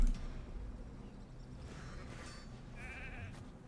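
Sheep bleating in the video game Raid during an arena shepherd challenge, a short wavering bleat near the end over a steady game background hum.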